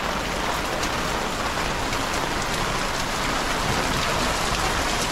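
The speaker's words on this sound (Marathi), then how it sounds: "सकाळपासून खूप पाऊस पडतोय" Heavy rain pours steadily outdoors near a dam, a dense, loud, unbroken hiss of drops hitting surfaces throughout with no voices.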